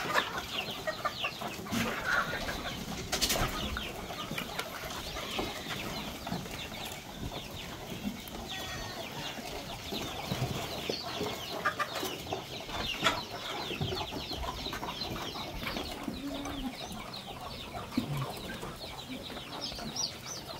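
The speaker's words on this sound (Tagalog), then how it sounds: "Yung atin naman mga manok, guys, oh." Chickens cluck and chatter continuously at a farmyard during afternoon feeding time, with scattered calls overlapping in a busy, steady flock sound throughout.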